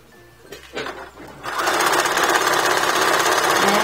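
Sewing machine stitching fabric for a two-tone skirt: after a second or so of quiet handling clicks, a loud, rapid mechanical chatter starts and runs steadily to the end.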